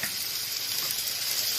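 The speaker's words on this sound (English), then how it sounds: "I put the honey on in the frying pan and let it cook" Honey cooking in a frying pan gives a steady, close sizzle and hiss, even and continuous with no talk over it.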